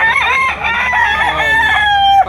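A rooster crows loudly and close at a chicken sale in Batangas, one long drawn-out call filling the moment with no talk over it.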